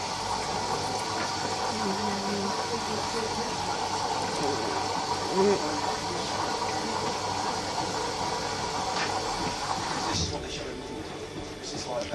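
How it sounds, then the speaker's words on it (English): Bosch washing machine flushing its main wash and conditioner compartments: a steady, close rush of pouring water and pump hum that continues evenly, easing slightly near the end. "Flushing the main wash compartment and the conditioner."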